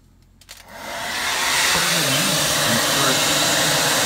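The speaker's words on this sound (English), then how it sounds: "I have to take a 1500 watt hair dryer" A 1500 watt hair dryer switches on after a brief quiet start and then runs as a loud, steady, close whoosh of blowing air. It is aimed at a frozen icemaker inside a refrigerator to defrost it.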